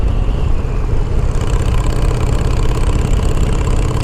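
A 2007 custom bobber motorcycle engine runs steadily at a loud, close idle, with a dense, rumbling low throb and a mechanical knock, no voices.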